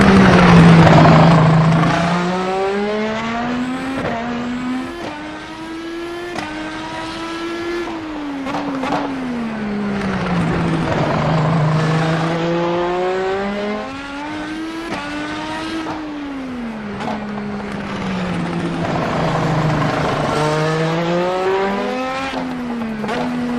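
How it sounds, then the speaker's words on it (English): A racing car engine in iRacing revs up and down in repeated smooth sweeps, loud and close, with a gurgling, rising and falling pitch and no talk. "you can really hear the gurgle there as the engine revs up and down"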